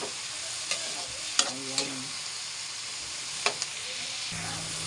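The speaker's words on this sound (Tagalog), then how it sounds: "Bali, lulutuin lang natin itong kamatis." Chopped tomatoes fry in a pan with a soft continuous sizzle, broken by several sharp clicks and scrapes of a stirring utensil; a voice speaks briefly.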